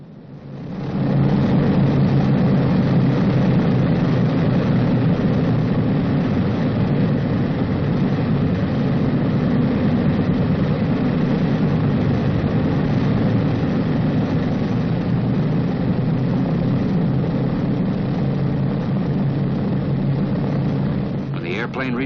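Steady, loud low engine drone holding evenly throughout, a continuous rumbling idle of a B-29 bomber's heavy piston engines with no pauses.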